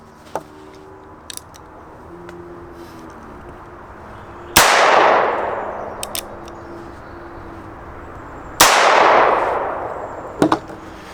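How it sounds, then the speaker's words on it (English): Two loud pistol shots of Hornady Critical Defense ammo from a short-barrel pistol, spaced about four seconds apart outdoors, each with a long echoing tail, plus faint metallic clicks between. "the ammo I'm going to be shooting is Hornady Critical Defense"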